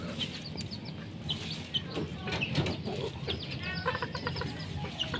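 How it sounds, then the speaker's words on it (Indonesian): Bantam chickens and a larger fowl in a yard at feeding time, clucking and chirping close by, with intermittent calls over a constant low background hum. "Ini ayam gede."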